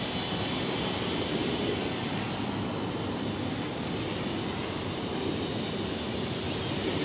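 A Trex 450 Pro RC helicopter in flight after a rebuild, giving a steady, loud, high-pitched whine and rotor roar that holds unbroken throughout with no voices.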